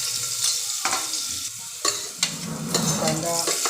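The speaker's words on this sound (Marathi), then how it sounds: "कांदा लसूण चांगल्या शिजला की मग त्याच्यामध्ये बाकीचं टाकलं जाईल कांदा मिरची टाकून घेतली जातात" Onion, garlic and green chili frying in a pan, a bright steady sizzle broken by several sharp spatula stirs and scrapes, close and fairly loud.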